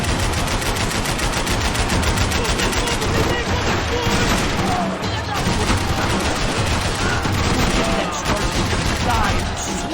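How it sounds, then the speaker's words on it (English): Dense gunfire rattles in the Max Payne 3 video game, rapid machine-gun bursts and overlapping shots in a nonstop loud barrage, with shouted voices mixed in. "I can't concentrate with bullets whizzing past my head!"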